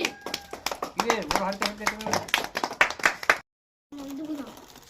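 A group claps at a village ball-toss prize game: sharp, rapid hand claps mixed with voices and chatter, then a brief silence before talk resumes.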